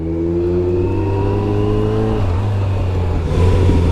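A car engine revs hard and accelerates nearby, a loud, steady roar whose pitch drops partway through and then climbs again as the throttle opens once more.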